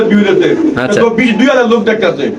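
Pigeons coo in a steady, close, loud run of throaty calls, with a voice present at the same time.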